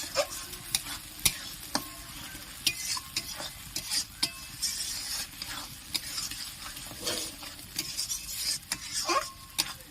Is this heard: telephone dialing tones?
no